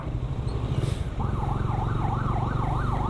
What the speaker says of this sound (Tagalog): ano kaya yun? Ambulansya.